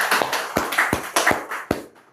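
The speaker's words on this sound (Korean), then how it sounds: "박수." A few sharp, scattered hand claps ring out in a Korean lecture hall as a man's thirteen years of sobriety are celebrated. The claps are close and uneven, with gaps between them, more like sparse clapping than a full ovation.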